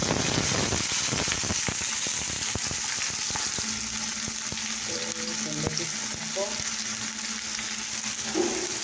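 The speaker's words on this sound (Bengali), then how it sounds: "আলু কেটেছি, আলু ভাজা হবে। তেল হয়ে গেছে" Cut potatoes fry in hot oil with dried red chillies, a loud crackling sizzle that stays steady near the pan, with brief scraping and stirring noises partway through.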